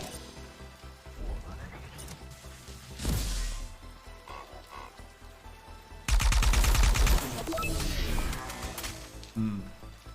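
Gunfire in the video game Discovery: ArcRunner, with bursts of rapid shots and heavy impacts that build into a loud sustained volley midway through, amid crashing effects.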